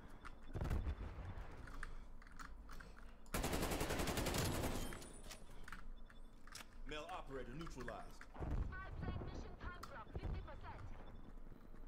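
A sentry gun in a free-for-all video game match fires one long, dense burst of rapid shots, loud and close. A player talks over the game noise before and after it.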